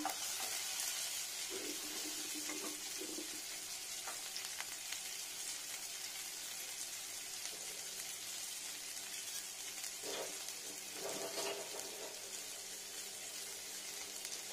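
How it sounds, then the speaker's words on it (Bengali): Pumpkin stalks fry slowly over low heat in a pan with turmeric and chilli powder, a soft, even sizzle running throughout with a couple of brief stirring bursts near the end, no speech. "এটা এখানে ফ্রাই হবে অল্প অল্প, স্লো স্লো টেম্পারেচারে।"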